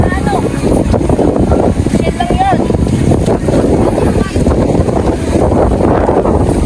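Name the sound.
strong wind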